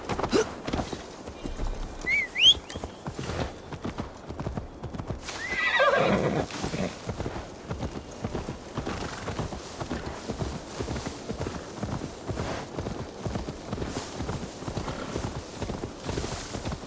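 A horse in the video game Assassin's Creed Valhalla clip-clops steadily at a trot in a rhythmic hoof beat, with a whinny near the middle, over a low ambient game bed.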